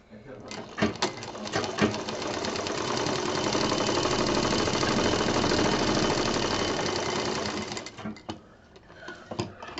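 A sewing machine stitching patchwork bed cover pieces, running in a steady continuous whir for several seconds, with brief starts and stops at either end and a voice speaking over it.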